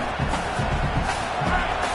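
Stadium crowd in a college football video game, Indiana at Michigan, roaring and cheering as a steady, dense wall of noise with swelling surges and no pauses.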